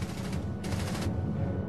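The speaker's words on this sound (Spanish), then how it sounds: "La MG-42 es probablemente la mejor ametralladora de la Segunda Guerra Mundial." A World War II MG-42 machine gun fires at about 1,200 rounds per minute, a rapid ripping burst in the middle of a continuous low rumble of battle noise, with no speech.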